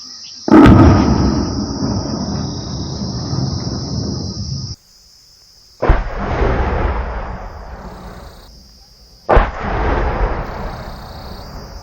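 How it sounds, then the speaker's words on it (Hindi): Artillery shelling on residential areas near the Line of Control: three heavy, loud booms a few seconds apart, each with a long rolling rumble, while insects chirp steadily in the background. "तो शेलिंग शुरू है"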